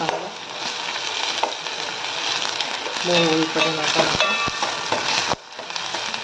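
Tomatoes sautéing in a pan for a Malvani-style dried fish curry, a loud continuous sizzle and fry with stirring scrapes, briefly dipping near the end.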